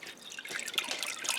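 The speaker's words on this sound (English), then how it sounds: "I'm just going to let this drip." Freshly rendered pork lard drips steadily from a cloth, soft wet patters in a close, quiet trickle with no talking.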